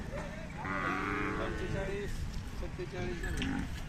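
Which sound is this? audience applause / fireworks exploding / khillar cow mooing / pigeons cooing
khillar cow mooing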